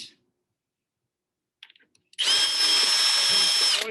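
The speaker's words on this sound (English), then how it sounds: "Drill once and twice." A power drill bores hinge holes into a hardwood cabinet door, starting with a few faint clicks and handling sounds, then a loud, steady whirring drill run of about two seconds close by.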